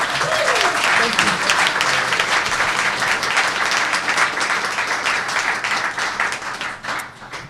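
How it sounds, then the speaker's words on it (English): An audience applauds at a Seattle city announcement of small business relief and awards, steady dense clapping that fills the whole stretch and tapers slightly near the end. "Can we give him a round of applause?"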